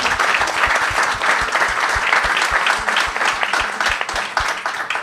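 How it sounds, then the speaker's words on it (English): Loud, sustained applause from a large conference audience thanking the speakers, a dense wash of many hands clapping steadily for about five seconds with no voices standing out. "So please, warm applause for our amazing speakers."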